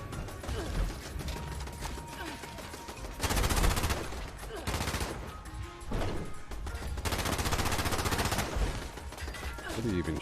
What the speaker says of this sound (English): What are you even shooting at?